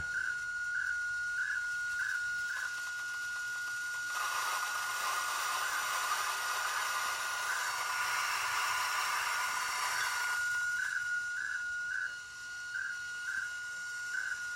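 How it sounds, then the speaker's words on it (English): Broadband radio static hiss from an RTL-SDR receiver with a homemade Yagi antenna swells and fades as reception drifts while the antenna turns, with a steady whistling carrier tone and faint intermittent beeps; no voices. "you'll be able to hear it lose reception as I turn it"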